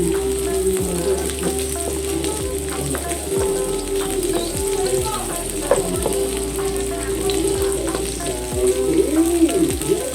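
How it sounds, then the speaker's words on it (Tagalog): Garlic, onion and tomato sautéing in a pan for a mung bean dish, a steady close sizzle and crackle lasting throughout with occasional stirring, joined by a constant tonal hum and no talking. "ngayon magigisa naman po ako ng bawang, sibuyas, kamatis para mas maging malasa ang aking ulam na munggo"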